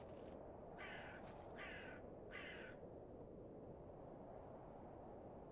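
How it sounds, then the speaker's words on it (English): A crow in a video game caws three times in an evenly spaced series, harsh and fairly distinct over a constant low windy ambient rumble. "Why is there a crow?"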